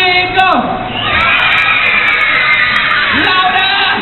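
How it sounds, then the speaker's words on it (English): A crowd of children at a kids' show screams and shrieks together, a loud sustained roar of high voices with rising and falling yells. "I want to hear you scream, go!"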